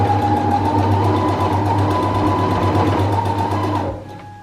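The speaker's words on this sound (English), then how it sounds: "We're just gonna sew all the way around here." Sewing machine stitching a seam around a thrifted messenger bag, a steady fast mechanical hum with rapid needle ticks, close and loud, slowing and stopping at the end.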